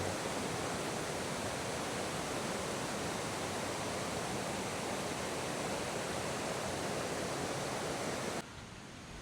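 A steady, dense roar of a waterfall beside a riverside lodging in Laos fills the clip without a break, heard close and loud.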